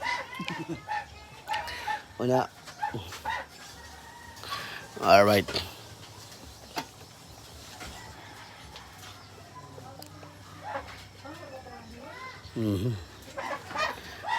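Birds call and quack nearby in scattered bursts, some loud and close, while a person speaks occasionally between them.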